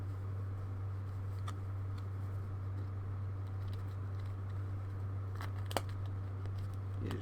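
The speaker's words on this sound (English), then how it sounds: "the one I've just cut is bigger than the old one" Scissors snip at celluloid lenses for a webcam, leaving a few faint, sharp clicks over a steady low electrical hum, with quiet rustling between the cuts.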